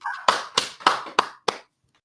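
A few people clapping after a talk, heard as five distinct sharp claps spaced roughly evenly, close and fairly quiet, with no talk over them.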